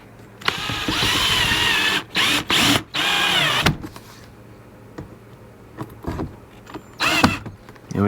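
A power drill drives short screws into a Jeep XJ interior Molle panel, giving several loud whirring bursts in close succession, then quieter clicks and handling noises with a final short burst.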